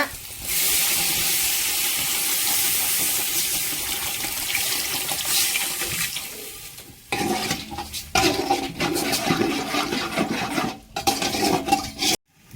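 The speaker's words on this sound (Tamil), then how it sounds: "இப்போ தண்ணி சேர்த்துக்கலாங்க." Water pours and splashes into a pan of fish curry base for several seconds, followed by clinking and stirring sounds of a utensil against cookware.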